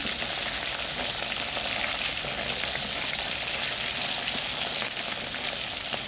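Threadfin bream (bisugo) frying in hot oil, giving a steady, dense sizzle with crackling pops that runs evenly throughout, close and fairly loud, with no voices.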